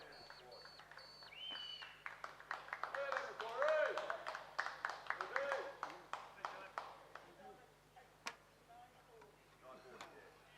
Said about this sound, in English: a round of applause for our state champions and medalists in the men's E double scull